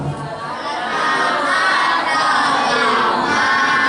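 School children shout together in a loud crowd, and the massed voices swell and stay strong throughout.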